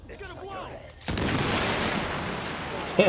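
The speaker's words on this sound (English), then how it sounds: "Let's do another grenade." In the video game The Division, a grenade goes off with a sudden loud blast that rolls into a sustained rumbling roar after someone briefly speaks, with a sharp hit near the end.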